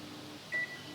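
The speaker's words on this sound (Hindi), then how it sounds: "बीप साउंड आ गया है" A microwave oven signals the end of convection preheat with one short, clean electronic beep over a faint background hum.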